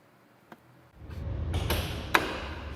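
A Lamborghini scissor door swings open with a faint click, then a mechanical whir and creak as it rises, ending in a sharp latch clack, all close by.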